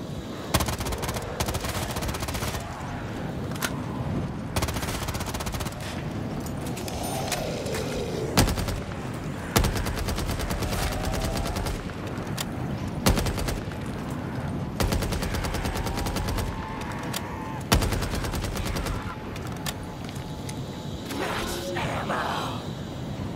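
Rapid gunfire from weapons in a zombie shooter video game, bursts of shots recurring through the whole stretch alongside other game sounds, with a person talking over it.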